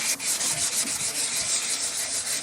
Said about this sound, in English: So I'm going to have a bit of a wet sand